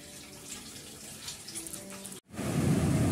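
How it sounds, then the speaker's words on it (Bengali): Water runs from a tap while a wok (kadai) is scrubbed in a home kitchen sink. A steady rushing stream comes on loud and close after a brief gap, with scraping movement beforehand. "কড়াটা মেজে ফেলবো"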